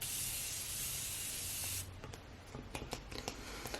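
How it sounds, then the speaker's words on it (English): A long, steady hiss of a Morphe setting spray mist for a couple of seconds, followed by quiet clicks and handling sounds nearby. "next I'm going to go in with my Morphe setting spray"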